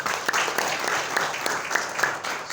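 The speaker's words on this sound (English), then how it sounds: "if you clap your hand once" Audience clapping at the launch event of a maternal and child nutrition program, a continuous field of many hands applauding with a few sharper claps standing out, no talk over it.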